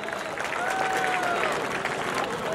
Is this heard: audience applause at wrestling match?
yes